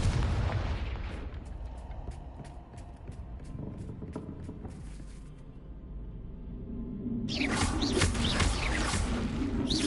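A Confringo blasting spell goes off in Hogwarts Legacy with a deep booming explosion, followed by rumbling blasts and crackling debris, loud and close, with birdlike chirps in the background.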